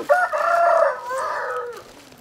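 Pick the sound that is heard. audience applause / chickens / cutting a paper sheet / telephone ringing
chickens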